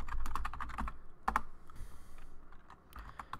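Rapid typing of configuration commands on a computer keyboard while setting up a Cisco Catalyst 2960 enterprise switch, keys clattering in quick irregular bursts with a short pause midway, close and fairly loud, no talking.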